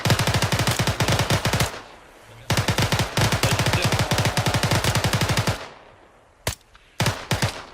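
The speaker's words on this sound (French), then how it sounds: "Tir d'armes lourdes, on se replie" Heavy weapons fire in a tactical military shooter game: long bursts of rapid automatic gunfire, loud and close, broken by brief pauses, then a few short sharp shots at the end.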